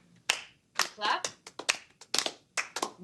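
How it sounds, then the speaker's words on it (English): A group claps hands in short irregular bursts of sharp claps, some single and some in quick clusters, close and fairly quiet, with voices speaking between them. "Clap."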